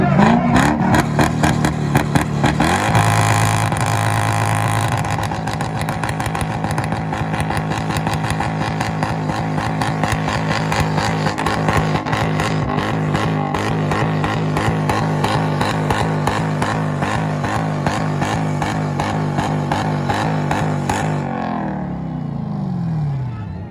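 A Toyota Supra, Honda Civic, Acura and Subaru trade loud engine revs at an IFO Washington 2024 two-step rev battle. Rapid stuttering limiter pops ride over a sustained roar that holds for about twenty seconds, then cuts off abruptly.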